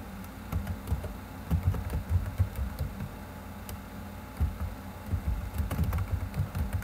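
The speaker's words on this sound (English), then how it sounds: "we can type in Quest Specialty Travel." Steady clicking of computer keyboard keys as header text is typed, with irregular bursts and short pauses, close and clear with no voices.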